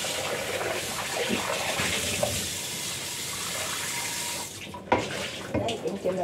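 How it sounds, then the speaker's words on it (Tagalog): Tap water running steadily into a pot to be boiled for pasta, a loud continuous gush that cuts off near the end, followed by a few clanks and handling noises. "Prepare ko na lang yung tubig. Para magpakulo tayo ng tubig mamaya para sa ating pasta."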